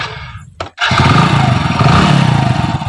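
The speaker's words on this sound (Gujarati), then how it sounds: "લે હવે હું આ બાઈક ચાલુ કરું" A motorbike engine cranks briefly, cuts out for a moment, then catches and settles into a loud, close, steady idle.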